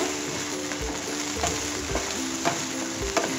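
Okra (vendakkai) sizzles and fries in a pan while being tossed and stirred, steady frying hiss broken by soft scraping clatters of the spatula, close and alone with no talk.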